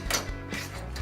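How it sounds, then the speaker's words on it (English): A Tapco brake on an aluminum siding brake is unlocked and released, giving three quick close mechanical clacks in about a second, quiet and alone. "Unlocking the brake, taking the tension off of it"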